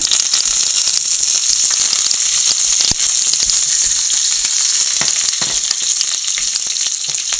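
Dried red chillies, curry leaves and mustard seeds frying in hot oil for pumpkin and bean erissery, giving a loud, constant sizzle peppered with sharp crackles and pops, heard up close.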